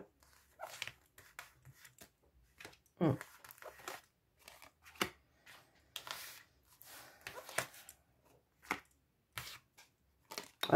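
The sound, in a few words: tarot cards being laid out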